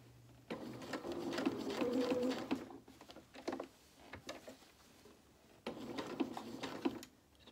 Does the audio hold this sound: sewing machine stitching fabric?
yes